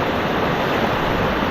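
Floodwater from Banahaw rushing past during a river crossing, a loud, continuous roar of churning water with no voices over it.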